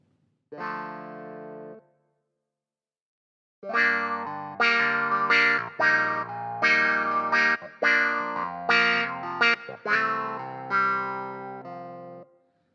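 A twangy clavinet voice on a Yamaha CP88 stage piano with a touch wah filter, playing one held note, then after a pause a funky run of quacking, percussive chords alone.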